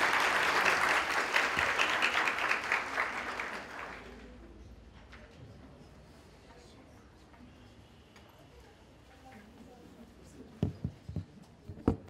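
Applause from the audience at a women's university mushaira poetry recital in Lahore, with dense, loud clapping for the first four seconds that then fades into quiet room noise and a few scattered claps near the end.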